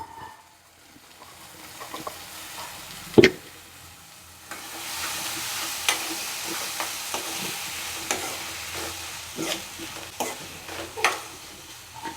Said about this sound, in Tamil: சுண்டைக்காயோட பச்சை வாசனை போகிற அளவுக்கு நல்லா வதக்கி எடுத்துங்க